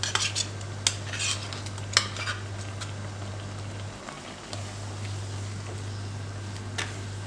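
Coconut paste is stirred into a simmering pot of vellarikka pachadi, a cucumber curry. A spoon clinks and scrapes against the pot in scattered taps over a steady low hum, with no talking.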